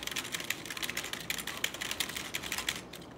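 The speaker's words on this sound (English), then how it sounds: "Let's type in a lot of things." Rapid, continuous clicking keystrokes on a Vivitar LVLUP Pro gaming keyboard with LED keys, close and fairly quiet, with no talking.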